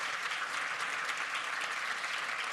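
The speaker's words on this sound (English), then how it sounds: "Can I get a round of applause for my panelists" An audience applauds the panelists at a Mental Health First Aid event, producing a steady, even wash of clapping that continues at moderate volume without pause.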